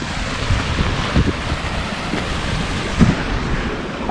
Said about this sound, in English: I've never seen the water there flow like that.